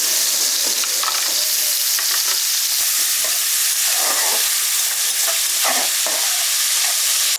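Prawns coated in salt and turmeric frying in hot oil, a loud, steady close-up sizzle with sputtering pops and occasional stirring clinks throughout.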